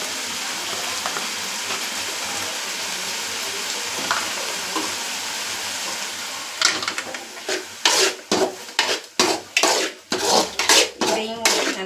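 Chilli-soy mixture of Kashmiri red chilli powder and soy sauce sizzling in a hot pan, steady frying hiss at first, then repeated close scraping strokes as it is stirred and mixed.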